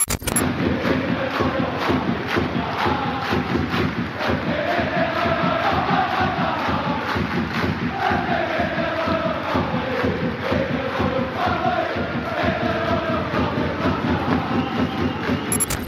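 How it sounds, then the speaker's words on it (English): Celtic football fans chanting an anti-royal chant in Scotland, a loud massed crowd singing in rhythmic unison with sharp clapping bursts throughout, sustained and echoing for the whole stretch. "We saw Celtic fans, the football team, chanting, "If you hate the royal family, clap your hands.""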